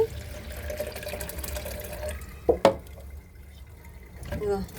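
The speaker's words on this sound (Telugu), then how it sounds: "చూడండి, వాటర్ అంతా ఎట్లా పోతుంది కిందికి, ఇందులో పొట్టు మొత్తం ఉండిపోద్దండి" Water poured into a perforated tin drains away while urad dal is washed, a faint trickle with a couple of sharp splashes midway, and a voice speaks nearby.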